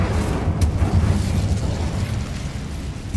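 A Confringo blast spell fired in Hogwarts Legacy, heard as a continuous low rumbling boom with a brief sharper crack early on, loud and sustained throughout the short stretch.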